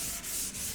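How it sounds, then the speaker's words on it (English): A sanding block rubs back and forth over the distorted metal bed side of a VW Caddy pickup, giving a close, loud, steady abrasive scratching in three strokes with brief dips between them. "literally just running a sanding block over that"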